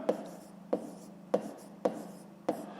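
A pen writes on paper during a fifth-grade math exercise, leaving five quiet, evenly spaced strokes or taps close by with soft scratching between them.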